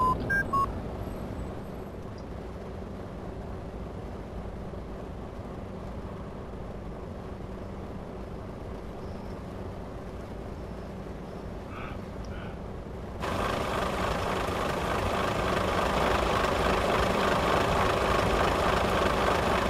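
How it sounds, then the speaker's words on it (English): A truck engine in Euro Truck Simulator 2 turns over and settles into a steady low idle. The drone grows noticeably louder and fuller partway through and then holds evenly to the end. "Let's start the engine up."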